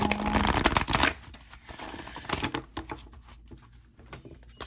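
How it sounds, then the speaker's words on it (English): Tarot cards shuffled by hand, a dense riffling flutter for the first second followed by quieter intermittent card slaps and rustles, close up and fairly soft. "One more good shuffle."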